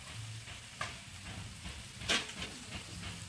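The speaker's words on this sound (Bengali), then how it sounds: "এখন আমি পেঁয়াজটা হালকা লাল করে ভেজে নিব।" Onion fries lightly toward a reddish brown in a home kitchen pan, giving a soft continuous sizzle broken by occasional scraping and clicking stirs, with one louder stir-scrape near the middle.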